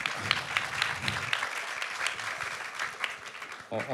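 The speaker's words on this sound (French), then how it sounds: "On peut l'applaudir, oui, on peut." Audience applause for a state governor at a French-language public policy round table, a steady dense wash of clapping filling the room, with a voice breaking in near the end.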